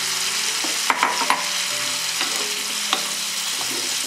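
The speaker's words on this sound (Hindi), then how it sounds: "आइए अब पम्पकिन को हम डाल देते हैं" Pumpkin pieces are tipped into spices frying in a pan and stirred, giving a steady close sizzle broken by a few sharp clatters and scrapes.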